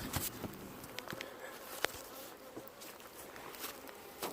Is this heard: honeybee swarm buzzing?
yes